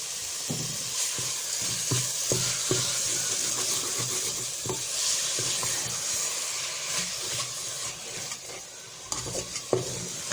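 Carrot halwa with about 100 grams of sugar roasting in a pan, stirred constantly with a spoon, giving a steady hiss and sizzle with repeated scraping strokes throughout, quiet and without speech.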